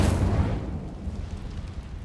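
A fiery burst from the Incendio spell in Hogwarts Legacy, a loud whooshing blast that starts strong and fades into a rumbling crackle, with no talking over it.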